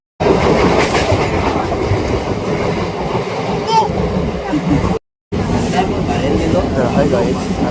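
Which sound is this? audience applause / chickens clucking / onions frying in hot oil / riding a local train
riding a local train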